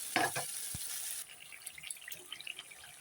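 A ground spice paste poured into a pan with fried cumin for an eggplant dish, a loud close sizzle and hiss for about a second, then fainter crackles and light scraping.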